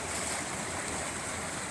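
Heavy water pouring through a residential property toward a culvert, threatening a shed: a steady, loud, broadband rush with no pauses, close by and with no voices.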